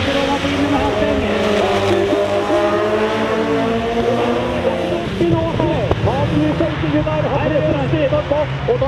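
Rallycross cars roar off the start line together at the Kinnekulle ring in Götene, Sweden, engines loud and close with rising revs and overlapping tones, while a commentator talks over the noise throughout.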